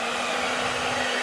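A Sunbeam hairdryer runs on low fan speed, powered through a Giandel 1200W inverter, giving a steady, loud, close whoosh of blowing air that holds constant throughout with no talk.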